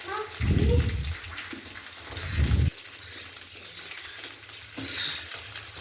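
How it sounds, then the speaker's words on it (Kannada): Chopped onions fry in a pan for biryani, giving a steady bright sizzle broken by two heavier low thumping bursts early on as the pieces hit the hot oil and get stirred. "ಈರುಳ್ಳಿ 2 ಈರುಳ್ಳಿ ಕಟ್ ಮಾಡ್ಕೊಂಡಿದ್ದೀನಿ, ಅದು ಹಾಕುವ"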